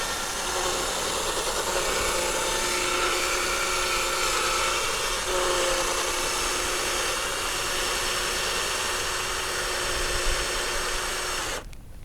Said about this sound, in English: There's a little drill paddle.